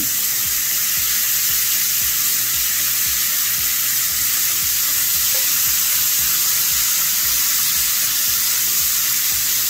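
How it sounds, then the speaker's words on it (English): Sausage fries in rendered bacon fat with no added oil, a loud dense continuous sizzle with fine crackling that holds steady throughout. "Place your sausage on the side of the bacon. Fry until it's brown."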